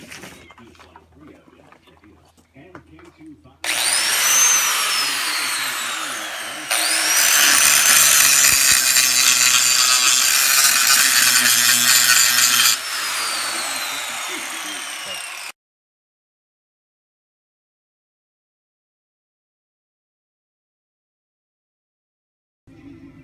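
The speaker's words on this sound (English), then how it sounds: "So now I'm going to start grinding it." Grinder working a metal surface, loud sustained whine in several long passes with shifts in pitch and load, then cutting off into silence.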